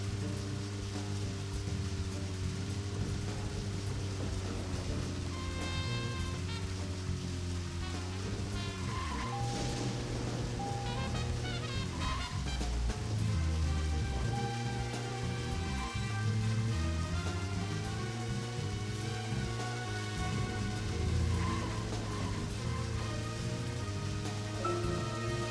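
Rain falls steadily while a car is driven in the video game Deadly Premonition, a constant patter under a droning engine and shifting musical tones.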